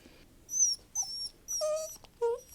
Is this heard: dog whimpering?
yes